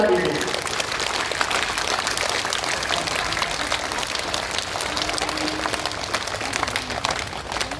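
Group of people clapping hands in dense, continuous applause, loud and steady for several seconds, as the closing step of a physical exercise routine.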